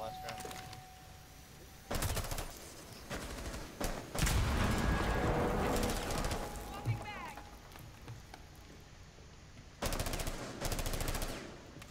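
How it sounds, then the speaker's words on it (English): Bursts of automatic gunfire in the video game Rainbow Six Siege on a Hereford Base hostage match, rapid sharp volleys repeating in several clusters, loud and close, mixed with other game noise and talk. "They're definitely shooting from within the room."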